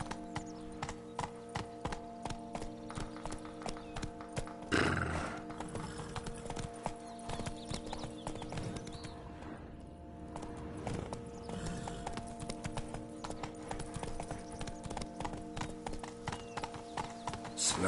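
Geralt's horse Roach gallops in The Witcher video game, a steady rhythmic clip-clop of hooves running continuously in the foreground over a busy layer of game music and ambience.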